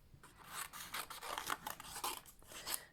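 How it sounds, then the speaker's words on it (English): Scissors cut paper bunnies out for a card in a quick run of close, crisp snips and rasping slides, quiet and alone with no talking. "the next thing I need to do is just to cut out my bunnies"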